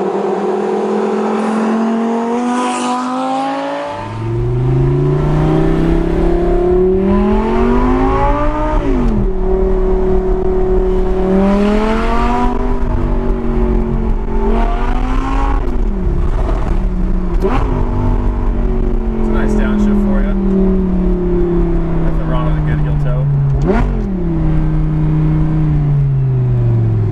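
An Audi R8 V10 fitted with a Fabspeed Valvetronic exhaust revs hard and repeatedly, loud and close, its pitch climbing and dropping in surges over a steady idle, with no talking.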